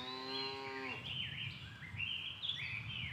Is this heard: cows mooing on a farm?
yes